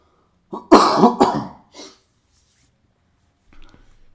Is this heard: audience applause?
no